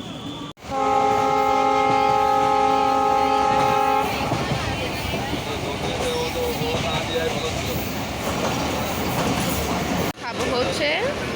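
A train at Poradah station about to depart blasts a loud, steady horn for several seconds, then a continuous platform rumble follows, with people talking nearby.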